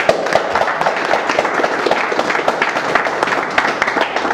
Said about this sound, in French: Une fois encore, applaudissements pour vous.